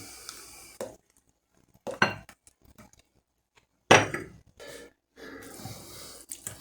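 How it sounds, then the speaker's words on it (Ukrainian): Intermittent scraping and clinking as a spoon stirs a honey and sunflower oil marinade in a bowl, in short bursts separated by quiet pauses. "Маринад наш треба добре, добре перемішати."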